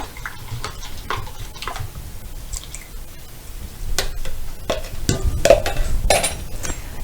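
A yeast solution for bread dough being mixed in a bowl, close-up wet stirring and squishing with clinks and taps of the utensil against the bowl, getting busier toward the end, with no talking.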